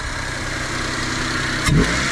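Idling Japanese Kei truck engine, a steady close mechanical hum with a short burst of revving near the end, no talking.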